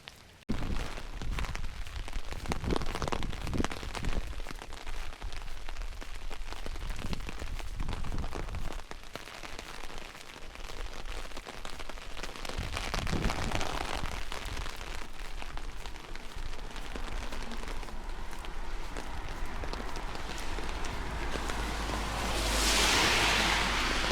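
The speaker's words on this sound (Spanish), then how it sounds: "Y bueno, pues la lluvia también, claro." Rain patters steadily on a golf umbrella overhead, a dense close drumming of drops with faint gusts of wind along a walking route, no voices.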